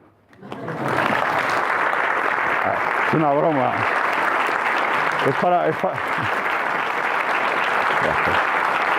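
Audience applause after a lecture on the quantum world, broad sustained clapping filling the room, with a brief spoken remark cutting through the middle.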